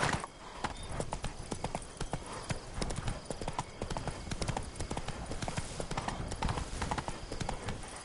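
Hooves of Roach, Geralt's horse in The Witcher 3: Wild Hunt, pound in a fast, steady galloping rhythm, close and continuous, with faint game ambience underneath.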